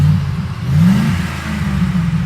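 A 2008 Ford F-150 Harley-Davidson edition V8 4x4 pickup engine revs with a deep, loud rumbling roar close up, its pitch swelling then settling into a steady throaty growl.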